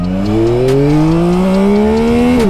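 A car pulls hard from 0 to 100 km/h in about four seconds. The loud engine note climbs steadily and close up, then dips briefly right at the end as if shifting, with no voices.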